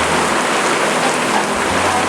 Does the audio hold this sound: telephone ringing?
no